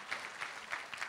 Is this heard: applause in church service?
yes